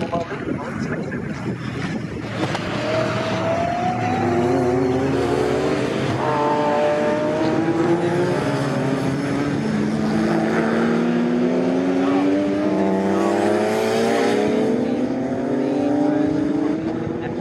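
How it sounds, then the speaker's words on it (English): Race cars lapping Snetterton circuit in a CSCC Slicks Series race, including a Ferrari Challenge car, their engine notes rising and sweeping past continuously with wind noise, under steady commentary. "Jenkins is still able to stretch his legs a bit more in that Ferrari Challenge car"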